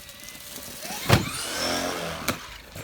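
A Traxxas Maxx 4S RC car whines past at speed with rising motor pitch, punctuated by two sharp thuds from jumps and landings, fairly close and loud against faint background noise.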